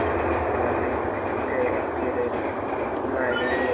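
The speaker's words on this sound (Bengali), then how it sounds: "একটি ট্রেন চলে যাচ্ছে" A train rolls past near a plant nursery, a steady loud rumble with a low rolling drone and faint clatter, continuous throughout.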